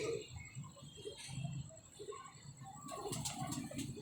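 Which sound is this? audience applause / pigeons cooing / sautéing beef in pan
pigeons cooing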